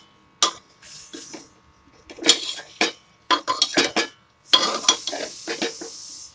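A spoon clatters and scrapes against a pot while vegetables and spices for a fish and vegetable stew are stirred together. The metallic knocks come in irregular close bursts separated by brief pauses, with no voices.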